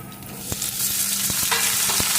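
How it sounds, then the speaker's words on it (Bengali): Pumpkin pieces and potatoes fry in a pan with a loud, constant sizzle, punctuated by a few sharp spatula knocks against the pan while stirring. "মিষ্টি কুমড়োটাকেও কিছুক্ষণ ভেজে নেব"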